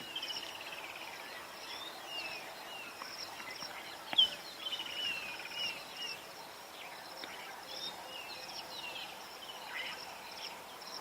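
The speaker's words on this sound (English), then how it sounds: "You can hear quite a few birds calling, and not many other sounds." Birds calling at sunrise in the African bush on safari, a soft scatter of chirps and trills over a steady hum of insects, distant and faint with one brief sharper call standing out.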